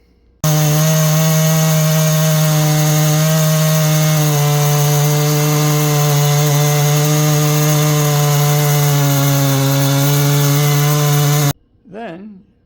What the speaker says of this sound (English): you use your chainsaw to cut that log down the middle.